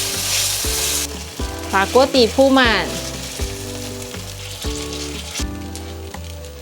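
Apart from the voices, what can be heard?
vegan batter frying in a pan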